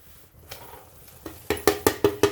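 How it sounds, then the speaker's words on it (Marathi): Semolina tipped into hot sugar syrup with cardamom powder in a pan, then stirred in a run of five or six sharp, evenly spaced scraping strokes that grow louder toward the end, close up and with no voices. "आपण लगेच आता रवा टाकणार आहे"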